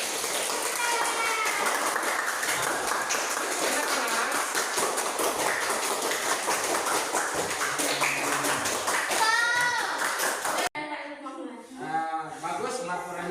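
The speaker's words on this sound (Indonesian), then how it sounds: "kita beri aplaus dulu untuk kelompok 3 yang telah menyampaikan hasil laporan" A classroom of Indonesian sixth-grade madrasah pupils claps steadily for group 3 for about ten seconds, with excited children's shouts mixed in, then the applause stops abruptly and voices continue.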